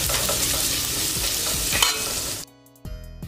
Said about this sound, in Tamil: அதை இதில் ஆட் பண்ணி நல்லா வதக்கி எடுத்துக்கலாம்